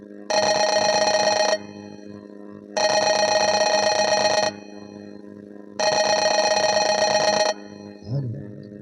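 A telephone ringing in three long electronic bursts separated by short pauses, loud and near, followed by a brief rustle.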